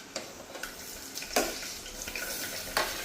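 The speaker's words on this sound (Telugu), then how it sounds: "ఇప్పుడు ఒక 2 minutes చక్కగా దోరగా వేపుకుందాం" Chopped onions and green chili slices sizzle in hot oil with spices in a pan for an egg biryani, a steady crackle broken by a few sharp stirring clinks, close and fairly quiet, with no talking.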